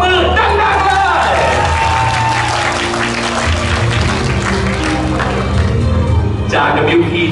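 Applause ripples through the audience at a Bangkok press conference for Kim Jonghyeon's first fan meeting, a steady wash of clapping that runs the whole stretch beneath an announcer's amplified voice.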